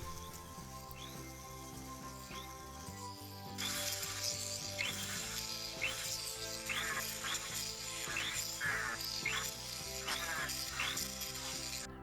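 A silver tension pendant is polished with Tripoli compound on a rotary tool, giving a steady whirring grind with repeated rasping scrapes over a continuous mechanical hum, close and fairly loud.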